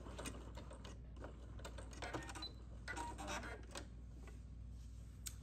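A home sewing machine stitches around the edge of a fabric strap, its needle chattering in quick mechanical bursts, close and fairly quiet, pausing briefly between runs.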